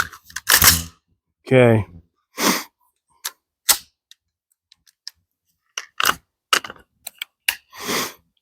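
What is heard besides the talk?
rifle being loaded at the range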